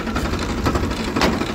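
Close by, a tractor engine runs continuously, with a dense, steady rumble and a rapid rhythmic chatter and no pauses.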